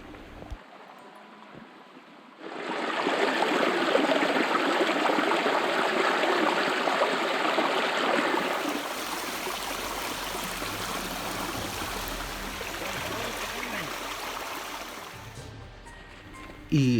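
Water rushes steadily over rocks in a forest stream fed by a waterfall in Mulapadu Forest, close and continuous, after a quiet opening; the flow stays strong and even for the rest of the clip.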